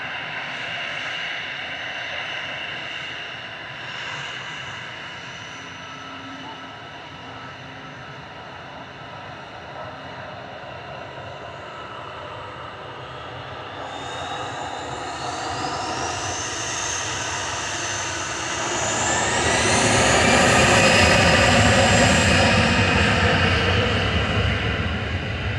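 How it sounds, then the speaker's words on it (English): An Airbus A320 Classic jet takes off from Manchester Airport bound for Tenerife South, a distant engine rumble that swells into a loud rushing roar with a rising whine as it passes, with no talk. "lining up on T3 left. Going to Tenerife South, flight 2009 A320 Classic"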